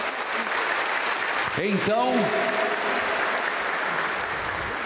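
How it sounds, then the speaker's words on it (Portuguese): Church congregation at Palm Sunday Mass applauding in a steady, even wash of clapping, with someone briefly speaking over it partway through. "Uma salva de palmas."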